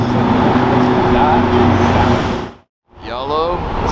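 A yellow Toyota Supra drives past on a road, its engine and tyre noise loud and steady for a few seconds, dropping out briefly, then returning close by.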